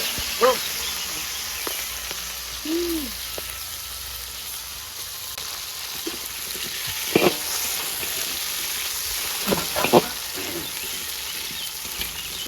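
Chilies frying in a pan for a spicy lodeh, a faint steady sizzle under scattered clinks and soft spoken words.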